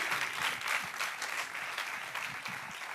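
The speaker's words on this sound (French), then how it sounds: "Tonnerre d'applaudissements pour Gertie." Applause from an audience for a guest at a French talk event, steady continuous clapping at moderate distance, fairly faint and even throughout.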